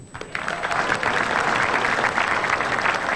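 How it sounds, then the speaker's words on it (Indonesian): A stand-up comedy audience breaks into applause, building quickly after a brief pause into loud, dense, sustained clapping. "Tepuk tangan dong."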